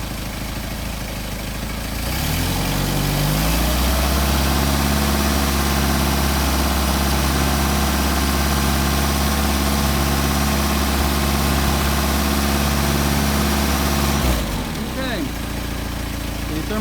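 A Mercedes 190SL engine running on Solex carburetors rises from a quiet start into a steady, loud idle with a slightly uneven pulse, then cuts off near the end; a voice talks briefly around it.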